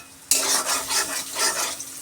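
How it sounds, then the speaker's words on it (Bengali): Garlic, onion and four dried red chillies fry in hot oil in a kadai, a loud, steady sizzle that starts abruptly and swells with faint stirring scrapes, no voices. "কড়াইতে তেল গরম করে শুকনো লঙ্কা দিয়েছি 4টে, আর রসুন দিয়েছি"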